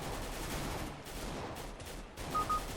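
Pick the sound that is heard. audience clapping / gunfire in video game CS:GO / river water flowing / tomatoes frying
gunfire in video game CS:GO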